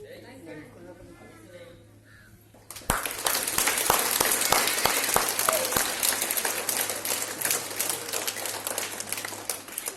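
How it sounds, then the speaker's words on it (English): Applause from a school audience for a student who placed third in a 100-metre running race, a dense burst of many hands that starts abruptly and carries on steadily to the end after a brief stretch of quieter room chatter. "Ankit, please come on the stage and clap for him."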